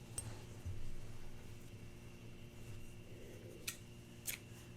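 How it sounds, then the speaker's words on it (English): Scissors snip through crochet yarn at the end of a twisted crochet top, giving two faint, sharp clicks near the end over a quiet, humming room. "cut off the yarn."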